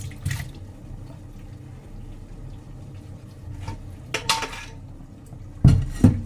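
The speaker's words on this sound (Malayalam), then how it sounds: "അത് നമുക്കിത് വാര വെക്കണം" Dishes and utensils clink and clatter in a sink with light water noise as washed prawns are drained, a few sharper knocks near the end; no one speaks.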